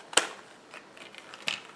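A few sharp snips and clicks, close up, spaced irregularly, as scissors cut through the plastic packaging of an Icy Box SSD RAID enclosure.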